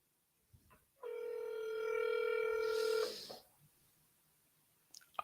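A telephone line tone for an outgoing real-estate cold call sounds steadily for about two seconds, fairly loud and clean, then cuts off into quiet with faint clicks.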